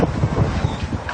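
Strong gusts from Typhoon Opong roar and buffet the microphone in Sucat, Muntinlupa, where a chicken coop was knocked over, producing a dense, continuous low rumble with no voices.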